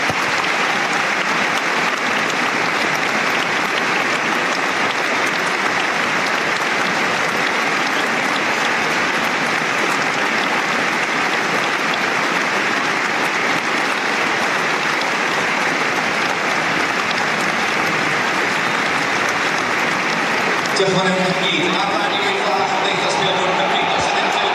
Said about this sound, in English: Both teams now wearing black armbands around the centre circle for a minute's applause.